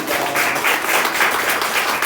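A church congregation applauds together during a Sunday worship service, dense sustained clapping that pulses slightly, loud and close throughout.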